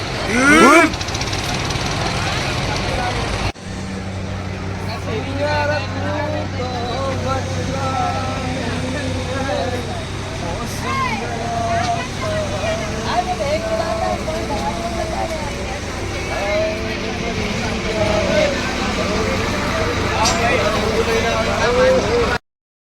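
A motorboat engine drones steadily up close on the river at Omkareshwar, a constant low rumble beneath people chatting and laughing throughout.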